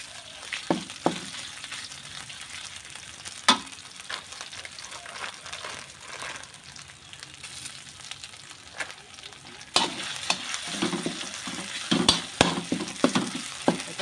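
Curry paste stir-fries in oil for a Thai catfish curry, a sizzling hiss with intermittent spatula scrapes and clacks that grows louder and busier near the end.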